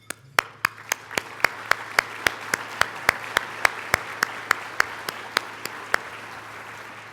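Event sponsors are thanked by an audience with a clear run of about twenty sharp, evenly spaced claps that sound like a single pair of hands in a hall, moderately loud at first and fading toward the end.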